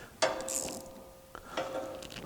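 Quarter-inch drive ratchet clicking in two close bursts of quick metallic pawl ticks, alone and fairly near, during work on an engine.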